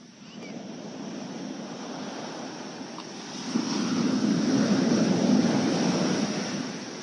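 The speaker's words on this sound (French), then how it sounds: "Maintenant, c'est le son des vagues." Ocean waves wash steadily in a broad, continuous roar that swells louder midway, with wind-like hiss and no voices.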